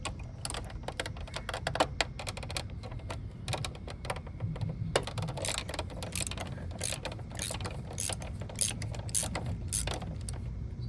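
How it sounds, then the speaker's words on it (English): A hand ratchet clicks rapidly and steadily up close while a timing belt tensioner bolt is loosened on a Honda Goldwing GL1500 Interstate, a continuous dry metallic chatter with no talk. "my tensioner has one fixed bolt and one bolt that goes into a slot, so the tensioner moves up and down. So we're gonna loosen that"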